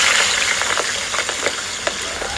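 Seasoned meat frying in hot oil on banana leaf, a steady bright sizzle with small pops and crackles, close and fairly loud, no talk.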